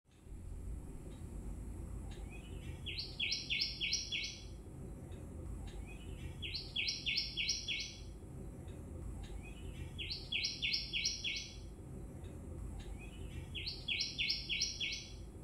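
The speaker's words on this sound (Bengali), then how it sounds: "ব্যাকগ্রাউন্ডে যে পাখির আওয়াজটা শুনতে পেলে এতক্ষণ, ওই পাখিটা আমাদের জানালায় আসে আর রোজ এরকম ডাকে" A bird repeats the same quick chirping phrase four times at regular intervals, fairly faint over a low steady background hum.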